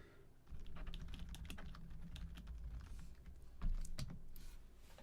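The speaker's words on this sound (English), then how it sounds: "I'm going to type a message in the chat." Someone types a chat message on a computer keyboard: a quiet run of quick key clicks, close and steady, with a slightly louder cluster of keystrokes partway through.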